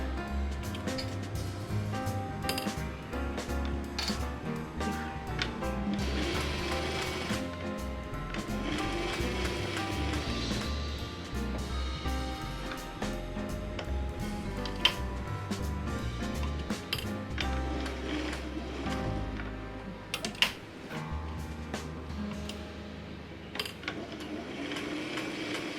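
A sewing machine stitching a 1940s nightgown, a close mechanical whir running in stretches with stops and starts, clicks and small knocks between runs, and no talk.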